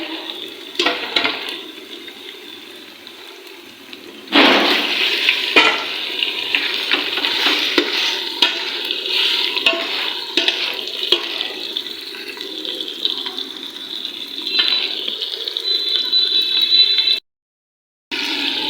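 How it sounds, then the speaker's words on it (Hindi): Chicken frying in a pot with whole spices such as black cardamom and cinnamon, a steady watery sizzle with occasional scraping stirs, close and continuous, cutting out briefly near the end. "चिकन को मैंने 10 से 15 मिनट तक अच्छे से फ्राई किया है।"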